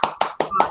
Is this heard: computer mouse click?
no